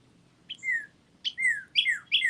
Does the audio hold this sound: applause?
no